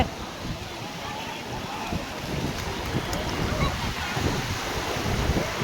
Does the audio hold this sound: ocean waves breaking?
yes